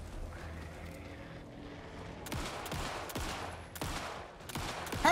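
Gunfire in the video game Alan Wake 2, several sharp shots spaced roughly half a second to a second apart in the second half, over a steady low ambient game background.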